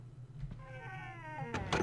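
A cat in the Harry Potter and the Sorcerer's Stone video game gives one drawn-out, rising-then-falling meow, clear and fairly close, followed by a short burst of noise.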